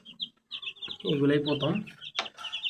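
Tiger breed chicks in a brooder under a 25-watt lamp, their high repeated chirps and peeps sounding close, while a person speaks over them partway through.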